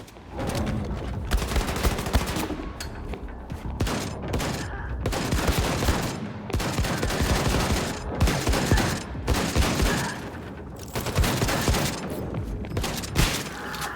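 Rapid, continuous bursts of video game shotgun gunfire fill the whole stretch, loud and close with dense repeated blasts and short gaps, with no talk over it.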